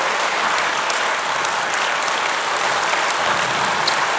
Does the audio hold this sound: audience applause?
yes